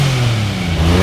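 A Nissan 350Z / Infiniti G35 twin turbo drift car engine runs in a short, steady burst, its low throaty note held at a loud, close rev with no voices.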